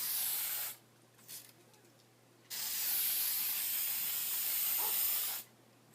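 Two bursts of hissing spray, one short and one longer, close by with quiet gaps between them.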